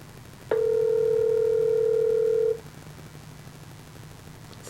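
A phone call rings through a Bluetooth adapter on an older car stereo speaker, a single loud, steady electronic tone lasting about two seconds, then quiet.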